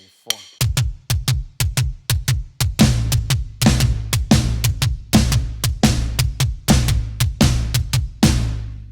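Drum kit pattern played alternately on the floor tom and snare for a song's drum part, a rapid run of sharp hits that starts sparse and settles into steady, loud, close repeating strokes.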